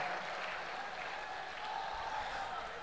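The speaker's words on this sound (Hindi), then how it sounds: "एक बार पुनः जोरदार ताली बजाइए मेरे भाई के लिए" Applause from a large crowd at a Hindu religious gathering, a steady dense wash of clapping throughout with faint voices mixed in.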